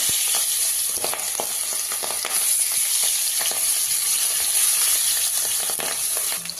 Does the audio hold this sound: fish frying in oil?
yes